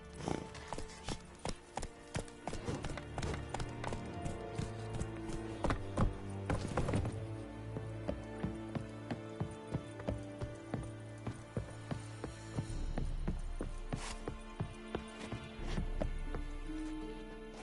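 Roach, the horse in The Witcher 3, gallops with steady rhythmic hoofbeats over a continuous game soundscape, the clip-clop pulses repeating evenly throughout at moderate loudness.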